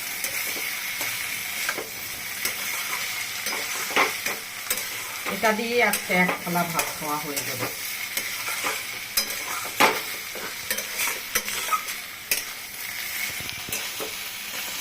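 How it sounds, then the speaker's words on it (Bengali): Fried poppy seed is stirred into pointed gourd curry frying in a pan: a continuous sizzle with frequent scraping spatula strokes, and a voice speaking briefly in the middle. "ভাজা পোস্তটা দিয়ে দিব উপর থেকে, দিয়ে সুন্দর করে মেশাবো এটার মধ্যে"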